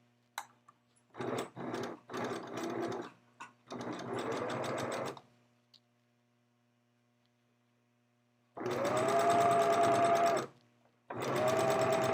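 A sewing machine sews the bottom seam of a garment with right sides together, starting in short stop-start bursts, then running in two longer steady stretches separated by silence.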